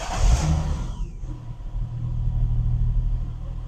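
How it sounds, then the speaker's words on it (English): A car engine cranks and catches, then settles into a steady low idle rumble close by, with an OBD2 scan tool connected to the vehicle. "Let me turn on the vehicle and see what we get."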